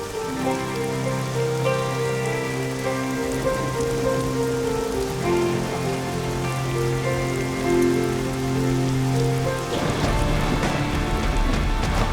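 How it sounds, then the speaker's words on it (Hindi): Rain pours steadily onto surfaces, a continuous patter and splash of drops heard alone under a sustained musical drone, with the downpour swelling louder near the end. "बारिश आने वाली है"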